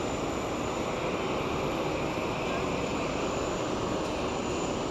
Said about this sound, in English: 737 retro jet